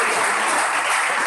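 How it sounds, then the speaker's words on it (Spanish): Congregation applause during an evangelistic church service, a brief, full and even wash of clapping with no break. "Denle la aplauso a Jesús que vive."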